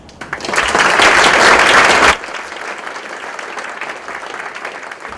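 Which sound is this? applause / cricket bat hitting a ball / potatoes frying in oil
applause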